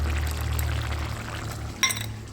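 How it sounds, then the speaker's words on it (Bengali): Water used to rinse a mixer jar pours into poppy seed paste in a bowl in a short, close, soft trickle, ending in a faint clink. "আর এখানে দিয়ে দিচ্ছি মিক্সি ধুয়ে রাখা জলটা"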